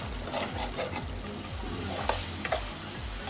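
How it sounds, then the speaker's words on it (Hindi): Masala frying in a pan while being stirred slowly with a ladle, a steady close sizzle broken by repeated scraping strokes against the pan bottom, with no voices. "धीरे धीरे कड़छी से चलाते रहना है कि मसाला नीचे लग ना जाए।"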